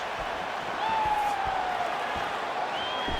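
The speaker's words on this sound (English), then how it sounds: "they can take in the applause because they deserve it after that grappling exchange" Crowd applause and cheering in the EA Sports UFC 5 fighting game after a grappling exchange, a steady wash of arena noise held for a few seconds at moderate level, with no one talking.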